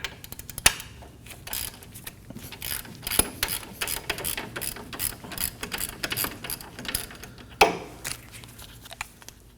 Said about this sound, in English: Using a 17mm socket,